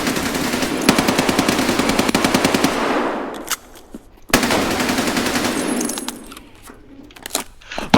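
Rapid automatic gunfire in Escape from Tarkov, two loud sustained bursts of closely spaced shots with a short gap between them, each burst trailing off into fading echoes and brief quiet, no talking.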